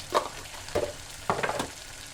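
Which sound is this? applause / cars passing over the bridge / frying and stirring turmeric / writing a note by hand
frying and stirring turmeric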